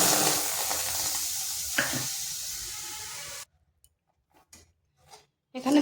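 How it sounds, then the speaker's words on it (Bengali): Palm fruit pulp heats in a wok with a soft bubbling sizzle and scraping stir strokes for a few seconds, then it cuts out to near silence broken by faint brief clicks. "এখানে তালের কাঠটাকে একটু ফুটিয়ে নিচ্ছি"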